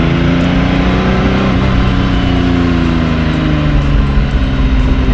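Supercar engine droning steadily while driving in a VR game, a loud continuous mid-pitched hum with layered harmonics and slight pitch shifts as it holds a gear, no talking.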